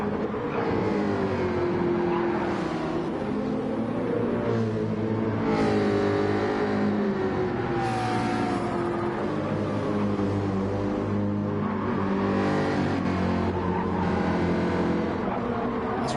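Race cars in a video game pulling out at Suzuka, several engines droning and rising in pitch together, overlapping whines sweeping up as they accelerate, close and loud throughout.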